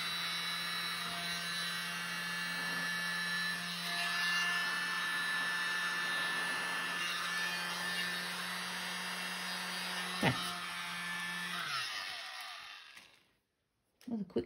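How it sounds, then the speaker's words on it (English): Small mini blower pushing white paint across a mini canvas during paint pouring, a steady close whirring hiss for about twelve seconds that then cuts off, leaving a few faint knocks. "I just use my little mini blower. And blow that white paint"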